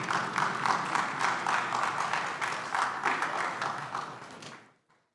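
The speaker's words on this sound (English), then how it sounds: "Applaudissez s'il vous plaît." Audience applause at the closing of the fifth Lake Chad Basin Governors' Forum, a dense, steady clapping from a large room lasting several seconds before cutting off abruptly.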